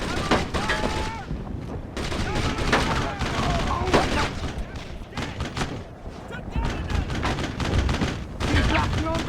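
Sustained volleys of rifle and machine-gun fire from a Brothers in Arms World War II shooter battle, loud overlapping bursts and sharp cracks for several seconds, with shouted voices mixed in.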